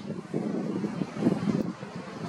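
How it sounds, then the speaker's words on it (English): Strong gusts buffet an outdoor microphone on an evening in Gibraltar, a steady low roar of wind noise with swelling surges throughout and no talking. "it's really, really windy"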